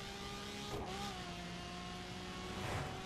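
A Lamborghini Aventador driven in the racing video game The Crew hums with a steady engine tone, with brief revving swells and whooshing passes near the start and end.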